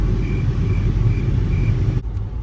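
A 2013 Volkswagen GTI with a 2.0-litre turbocharged four-cylinder engine makes a steady, loud low rumble. It sounds close and even and cuts off abruptly near the end, with no talking.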